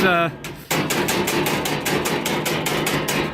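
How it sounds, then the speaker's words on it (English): Metal is hammered with a hatchet against a hammerhead used as a dolly, a steady run of about a dozen rapid, ringing metallic strikes at close range after a brief tonal sound at the start. "here we have Elliot demonstrating proper hatchet and dolly work"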